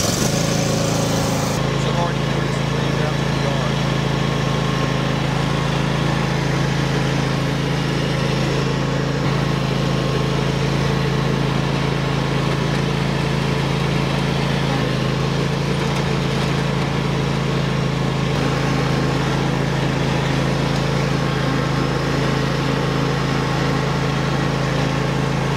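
A riding lawn mower engine idling, making a loud, steady low drone with a constant hum that runs unbroken throughout.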